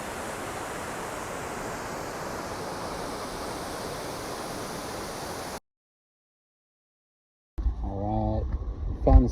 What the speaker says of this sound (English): I'm right by the river still, or creek